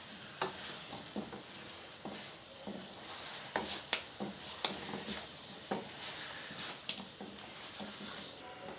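Already-cooked chicken stirred into spices in a pan for chicken handi, a quiet steady sizzle with irregular scraping and tapping of a spoon against the pan.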